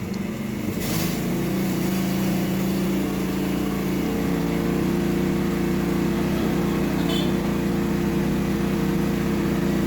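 A coconut milk grinding machine next door drones steadily throughout with a constant mid-low motor hum at moderate loudness, with no talking.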